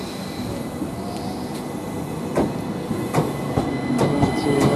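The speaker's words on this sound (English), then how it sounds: "317, 146 departs Lewes for Brighton." A Southern Class 377 electric train pulls away from Lewes toward Brighton with a steady rumbling roll and rhythmic wheel clacks at the rail joints, growing slightly louder as it moves off nearby.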